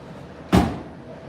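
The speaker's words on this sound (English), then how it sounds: "Door shut good" A 1965 Ford Mustang with a 289 engine has its door shut once: a single solid thud, close and fairly loud, briefly ringing out against a quiet background.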